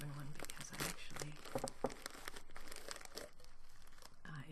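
Crinkling of a plastic Ziploc bag wrapped around bourbon-soaked lapsang souchong tea in a tea drum, close and fairly busy with scattered crunchy bursts, under soft talking.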